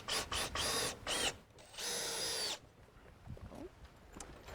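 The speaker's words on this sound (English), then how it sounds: "we're going to secure it in place for now with some exterior grade wood screws" A power drill drives exterior-grade wood screws into a deck frame beam: several short whirring bursts, then one longer sustained run with a rising whine, close and loud, followed by quieter rustling and handling noise.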